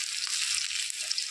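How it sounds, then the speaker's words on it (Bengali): Garlic and green chillies sizzle in hot oil in a wok, making a dense, steady, close hiss with faint crackles throughout the short stretch. "রসুন আর কাঁচা লঙ্কা দিয়ে দিচ্ছি"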